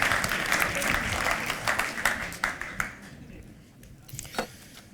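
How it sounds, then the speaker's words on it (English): An audience at a magic and mind-reading show claps loudly and densely, then the applause thins into a few scattered claps before ending. "Give a round of applause, please, as he takes a seat"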